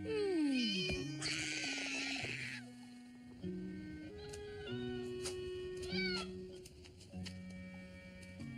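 A cartoon cat meows repeatedly in a series of drawn-out, varied cries, some rising and falling, clear and close against a quiet background.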